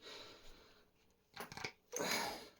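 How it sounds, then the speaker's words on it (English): Tin snips cutting open a piece of metal: two short, crisp metallic snips a moment apart, close and fairly quiet, with no talking. "Snip it open with these tin snips"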